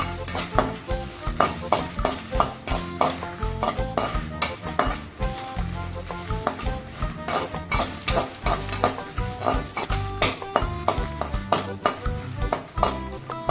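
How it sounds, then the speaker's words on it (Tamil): Rapid irregular crackling and popping of sesame seeds roasting in a pan, with a scraping stir and faint clinks of metal, close and continuous. "எள்ளு வந்து நல்லா பொரியிற சவுண்டு கேட்கும்."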